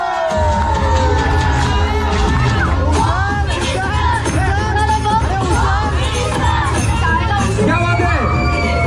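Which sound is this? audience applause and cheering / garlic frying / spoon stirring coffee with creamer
audience applause and cheering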